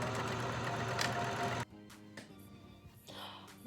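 A sewing machine runs in a loud, fast mechanical buzz while stitching the shoulders of a custom bodice, then stops abruptly, leaving quieter handling clicks and rustles.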